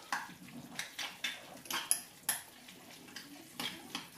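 A spoon stirring raw steak tartare meat in a bowl gives repeated light scrapes and clinks against the bowl, close and fairly quiet, with no talking.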